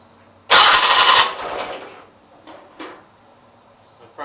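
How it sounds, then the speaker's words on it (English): A dry-carbureted engine on a 1976 Gravely 816 tractor cranks with a loud, harsh burst of grinding and rattling for under a second, then fades into weaker sputtering and a couple of short follow-up bursts. "Carburetor's dry, so we're going to crank it a little bit."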